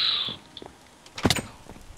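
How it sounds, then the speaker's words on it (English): A door opens in the Minecraft Hypixel server, a short creaking swing followed by a knocking clunk near the end, fairly close against quiet background. "Oh, did you just open a door?"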